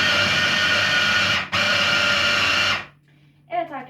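A food processor with a blender attachment whirs loudly at high speed, briefly dips and surges, then cuts off abruptly into near silence before a voice begins speaking.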